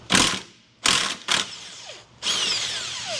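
A ratchet loosening subframe bolts on a Honda during a power steering leak repair, rattling in four close, loud bursts separated by short pauses, with no talking.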